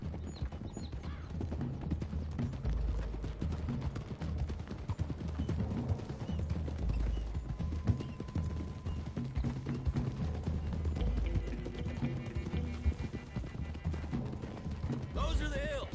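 Horses galloping in Red Dead Redemption 2, a continuous rumble of hoofbeats under spoken dialogue, with music in the background.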